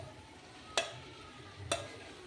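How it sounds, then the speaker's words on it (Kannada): Cooked rice being stirred into tomato gravy in a pan for tomato bath, with two sharp scraping clacks of the spoon against the pan over a faint, soft sizzle. "ಈಗ ಎಲ್ಲ ರೈಸನ್ನು ಮಿಕ್ಸ್ ಮಾಡ್ಕೊಳ್ಳೋಣ."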